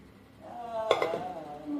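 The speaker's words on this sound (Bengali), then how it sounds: "একটা পাত্রে ছেঁকে নেব" Boiled amaranth stems are strained into a metal vessel, giving a ringing clank and clink of metal cookware midway over a soft background.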